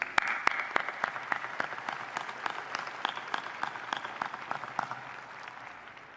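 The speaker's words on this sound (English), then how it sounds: "Round of applause for these individuals." Applause at a university spring commencement ceremony, with distinct sharp claps rising over a steady crowd clapping that continues for several seconds before gradually thinning out.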